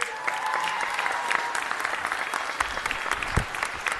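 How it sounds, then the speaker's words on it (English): A big round of applause fills a Los Angeles city council chamber meeting, steady crowd clapping sustained throughout at moderate level with a few sharper claps standing out. "One more big round of applause."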